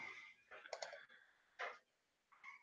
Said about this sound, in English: You're going to hear me clicking